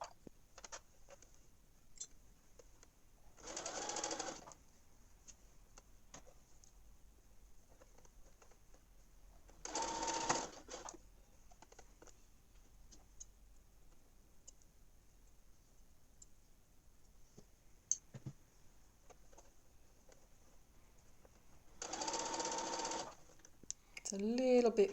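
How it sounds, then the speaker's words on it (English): A sewing machine stitches a straight seam around the top of a small fabric bag, heard as three short, quiet bursts of rapid mechanical whirring separated by long near-silent pauses. "I can sew a straight stitch around the top of the bag"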